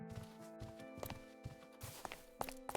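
Footsteps in Minecraft with a footstep sound mod, a steady walking series of soft thuds and taps at moderate pace, fairly quiet and close, with no talk over them.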